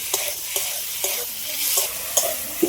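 Shrimp sizzling with green tomato in an oiled pan, a steady hiss of frying broken by regular scraping strokes of a spatula stirring the mix, close and fairly loud.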